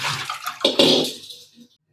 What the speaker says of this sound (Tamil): இப்போ இன்னொரு மட்டும் கழுவி எடுத்துக்கலாம்.